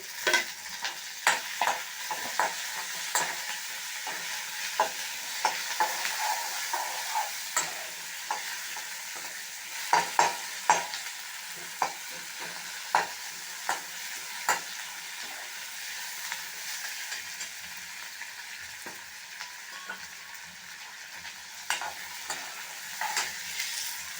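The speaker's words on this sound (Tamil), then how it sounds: "இப்போது கட் பண்ணி வச்ச தக்காளி சேர்க்குறேன்." Cut tomatoes fry in a pan for carrot chutney, giving a soft, steady sizzle. Frequent scraping clicks from stirring come at an irregular rhythm, with no talk.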